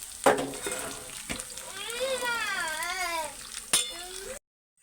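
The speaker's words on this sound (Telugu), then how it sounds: "ఇవైతే చక్కగా ఫ్రై అవుతున్నాయి కదా" Kandanakaya vegetables frying in oil with curry leaves, a soft sizzle under a few sharp utensil clinks and a brief wavering tonal squeal in the middle, close and fairly quiet, ending in silence.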